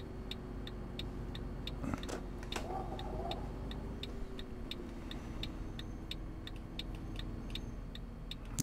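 A steering wheel controller ticks in sharp, regular clicks over the low, steady hum of a Volvo 9900 bus engine in the OMSI 2 bus simulator, with a few louder knocks near the start.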